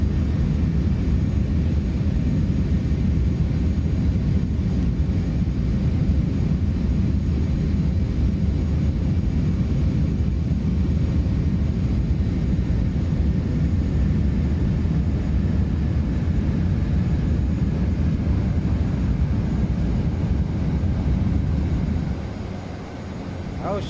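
A Carenado B200 twin turboprop landing in a flight simulator game, a loud steady engine drone filling the whole stretch and easing slightly near the end.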